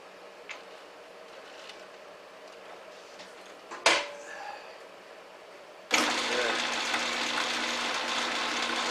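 A belt-driven machine spun up to high speed, a quiet ticking mechanical run, a clunk, then a sudden jump to a loud, steady high-pitched whir close by.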